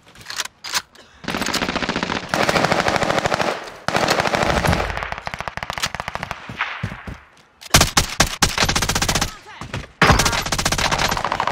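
MG82 machine gun firing in Call of Duty: Warzone, loud close bursts of rapid automatic fire in several long strings separated by brief pauses, with faint voices underneath.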